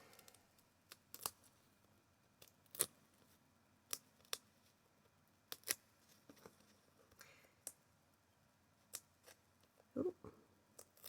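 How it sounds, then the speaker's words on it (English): Scissors trimming excess paper from a card layer in card making, a series of sharp, quiet snips spaced irregularly in a calm room. "And we'll trim off that excess."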